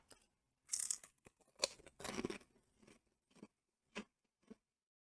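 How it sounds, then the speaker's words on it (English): Seasoned pork rinds crunch up close in someone's mouth, irregular crisp bursts and crackles spread over several seconds, quiet overall with short silent gaps between bites. "I'm just still crunching."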